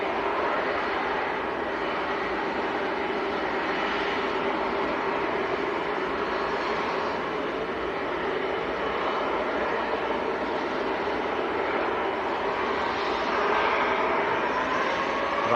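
Airliners taxiing at Manchester Airport produce a continuous, fairly loud jet engine roar heard from a distance, steady and even across the whole stretch.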